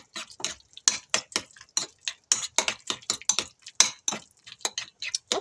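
Chicken is mixed with mayonnaise and lemon pepper, giving a run of wet, clicking stirring and squelching sounds in a quick uneven rhythm, close and fairly quiet, with no talk.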